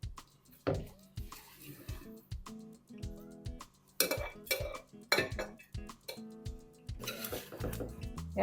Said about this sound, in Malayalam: നമുക്കിത് കുപ്പിയിലോട്ടിട്ട് വെക്കാം.